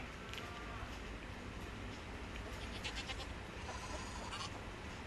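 Sheep bleating in the mobile game Animal Discovery 3D, sounding over a dense, steady bed of game noise with a few brief higher calls standing out.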